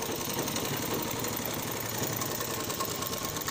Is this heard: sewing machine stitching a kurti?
yes